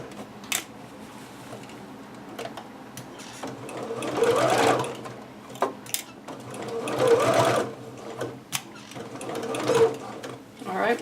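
A sewing machine runs in short bursts while stitching a dress seam from a Butterick 6322 pattern, with pauses between runs and some speech around it.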